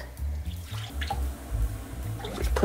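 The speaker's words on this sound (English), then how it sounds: "Take your milk," Milk is poured into a double boiler, a close, splashing liquid trickle over a low rumble, with a few light clinks from the pot and no speech.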